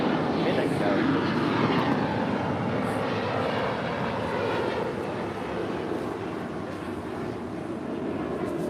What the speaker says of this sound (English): That is Swiss Flight 40, landed on the north side coming in from Zurich.